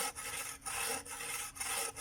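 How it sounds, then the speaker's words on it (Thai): A hand saw cuts through firewood in steady back-and-forth strokes, about five rasping passes with brief gaps between them, close and loud with no voices. "เดี๋ยวเลื่อยให้มันโจกก่อน"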